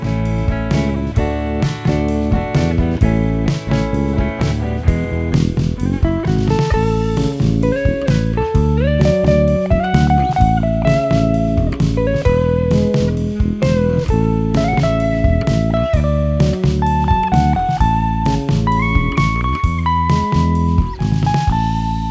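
A full band groove plays continuously, with a prominent bass line moving under chords and steady drums, loud and unbroken, with no voices.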